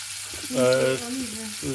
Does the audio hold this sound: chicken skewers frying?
yes